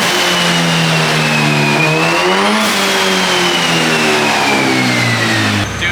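A turbocharged Honda K-series engine in an S14 roars through a dyno pull, its steady loud note rising in pitch, dipping briefly, then climbing again before cutting off at the end.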